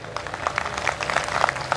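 Scattered audience clapping at a live comedy show, thin and uneven rather than a full ovation, with individual claps standing out over a low room murmur.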